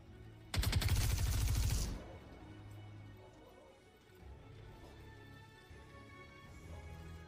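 A loud, rapid burst of automatic gunfire rattles for about a second and a half in the Star Citizen video game, then falls away into quieter ambient game sound.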